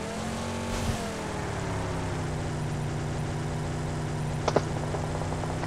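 A motorbike engine idles in PUBG Mobile gameplay, a steady droning hum with stable harmonic tones running continuously, a brief rev swell near the start and a couple of short sharp clicks later, no talking.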